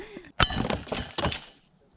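A glass Corona bottle twenty yards out bursts when hit by a .22 pellet from a suppressed Gamo Raptor Whisper air rifle, a sharp crack followed by scattering, tinkling shards over about a second, with a voice faintly present.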